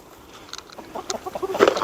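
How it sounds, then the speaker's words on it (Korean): A hen clucking close by in a short series of soft, rising clucks that grow louder toward the end, with no talk over them. "암탉 나왔다."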